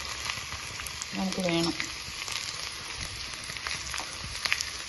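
Shallots and dried chillies frying in oil for a Kerala elephant yam curry, a steady soft sizzle throughout with a brief spoken word over it.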